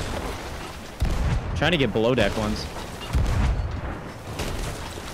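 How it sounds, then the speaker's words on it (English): Heavy booms of cannon fire ring out during a pirate-ship battle in Sea of Thieves, several deep blasts in quick succession, with players talking over them. "Get ready for them incoming cannons."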